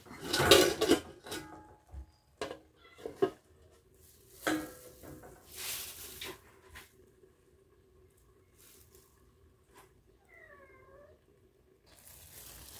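Clattering metal cookware in a kitchen while garlic shrimp cooks: a loud clang of a lid being set onto a pot, then a few scattered knocks and clinks that fade to quiet background with a faint trailing squeak.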